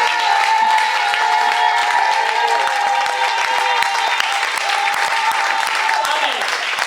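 A church congregation applauds in a steady, loud wash of clapping that carries on for several seconds, with a few cheers and a sustained organ-like tone underneath.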